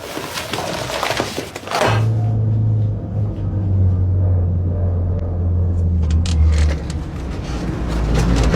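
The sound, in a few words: car driving on road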